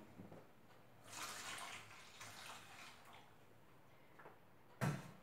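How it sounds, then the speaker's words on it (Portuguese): Water is poured into a pot of beans and sausage being made into soup, a steady splashing rush lasting several seconds that ends in a louder final splash. "agora eu coloco a água."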